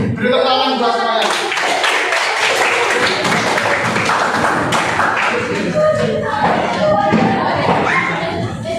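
A classroom of students applauding together, a dense burst of clapping lasting several seconds, with voices calling out and chattering underneath the claps.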